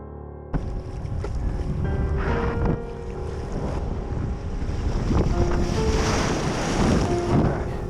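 Wind and waves on open water at Port Townsend, heard from a small boat: loud gusts buffet the microphone over a continuous wash of sloshing water that grows stronger toward the end.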